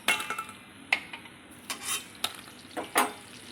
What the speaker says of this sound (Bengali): এবার এই তেলের ভেতরে আমি আলুটাও ভেজে নিচ্ছি